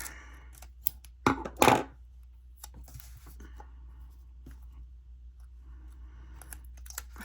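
Scissors snip through a planner paper sticker in a couple of quick close crunching cuts, followed by faint rustling and small handling taps in a quiet room.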